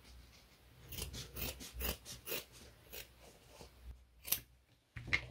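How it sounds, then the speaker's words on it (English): Scissors cut through felt for a cat ears hairband in a quick series of close, crisp snips, followed by a pause and a couple of later clicks and rustles, with no speech. "let me just snip here. And snip here."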